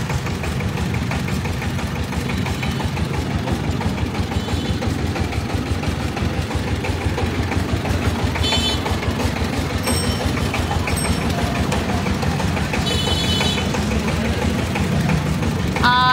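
Mustard oil mill machine pressing seeds, a loud continuous mechanical rumble and knocking churn that stays steady throughout, with faint occasional clinks and no clear speech.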